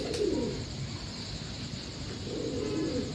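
Pigeons on a rooftop give soft, low cooing calls, one near the start and another near the end, over a steady background hiss.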